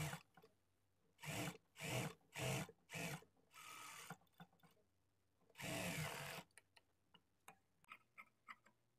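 A sewing machine stitches around the shaped belt of a blouse lining in several short whirring bursts, then one longer run, followed by faint clicks and ticks as the work is adjusted.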